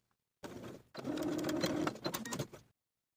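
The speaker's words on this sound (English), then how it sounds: "I'm going to place my needle inside the shoulder seam to stitch in the ditch" Sewing machine stitching in the ditch along a top's shoulder seam, needle sunk in the seam: a short rattling burst, a brief pause, then a longer steady run of motor whir and needle chatter, close and alone.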